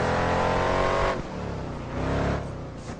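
Race cars roar as they accelerate in Project Gotham Racing 4 on Xbox 360. A loud, continuous engine drone rises in pitch, shifts abruptly partway through, then swells again with the next surge of revs.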